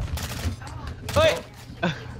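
Gunfire in the video game Call of Duty MW2 multiplayer, with a few sharp shots in quick bursts, moderately loud, mixed with game noise and a voice talking over it.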